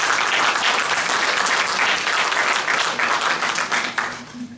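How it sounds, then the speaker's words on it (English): Audience at a community meet-the-candidates meeting breaks into dense, sustained applause, many hands clapping steadily for several seconds before thinning out near the end. "So give him an applause."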